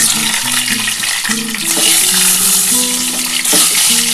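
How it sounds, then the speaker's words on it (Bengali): A duck egg dropped into hot oil, a loud close spitting sizzle that crackles steadily, with a few tonal clinks and scrapes of a pan and utensil, no talking. "আমার তেলটা গরম হয়ে গেছে, আমি ডিমটা ছেড়ে দিচ্ছি।"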